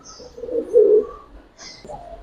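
Giribaz high-flyer pigeons coo up close, one low throaty coo swelling in the middle, followed by a softer coo, with faint chirps in the background.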